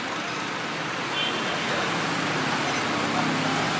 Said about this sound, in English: Just the hustle and bustle of the city. Motorcycle, cars, bikes, you name it.